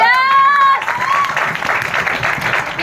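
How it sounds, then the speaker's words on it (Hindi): Audience at a motivational speech gives loud applause for distributors and leaders, the clapping swelling in after a brief tonal musical flourish and continuing as a full, close wash. "ऐसे मेरे डिस्ट्रीब्यूटर से लेकर ऑल आरटीसी लीडर के लिए एक बार जोरदार ताली।"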